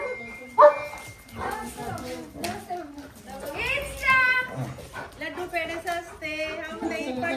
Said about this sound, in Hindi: ये कितने डॉगी आ गए देखो, ये सारे डॉगी आ गए भाई